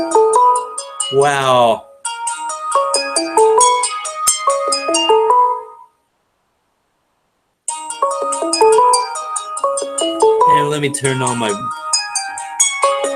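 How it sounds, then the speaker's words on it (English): Google Hangouts incoming call ringtone, a bright repeating chiming melody that plays loudly, stops for a couple of seconds, then resumes, with a person talking over it. "I wonder who's calling me in Hangouts."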